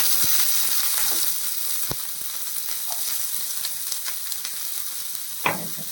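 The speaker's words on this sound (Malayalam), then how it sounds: "വെളുത്തുള്ളിയും നമ്മൾ ചേർക്കാം" Garlic hits hot oil in a pan for a quick prawn fry, raising a bright, steady sizzle with a few soft taps and a brief utensil clack near the end.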